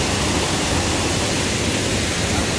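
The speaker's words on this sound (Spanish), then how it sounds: "Otra cascada que descubrimos porque no conocíamos acá" Dense, constant rushing of falling water, loud and close, an unbroken roar with no other sounds.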